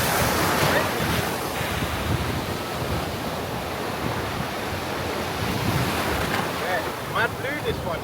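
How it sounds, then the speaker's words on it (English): Sea waves break on a beach in Northern Cyprus, a loud, continuous surf roar that swells and washes in close, mixed with heavy wind buffeting the microphone. "This beach is wavy."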